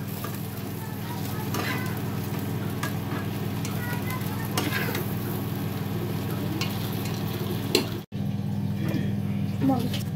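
Bay leaf, dried red chilies and cumin sizzle and crackle softly in hot oil for tempering, with occasional stirring clinks, under a steady low hum, while a person talks.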